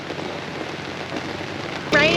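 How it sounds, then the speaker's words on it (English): Heavy rain falls steadily on a campsite at the Gympie Muster, a dense, even hiss of drops on surfaces throughout, ending in a sudden louder burst of noise in the last moment. "Raining so much that the guys next door have so much water"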